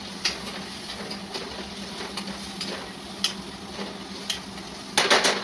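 Ground peanut flour being sautéed in a pan gives a soft, steady sizzle, broken by repeated scraping strokes and clinks of a spoon against the metal, with a louder burst of scraping near the end.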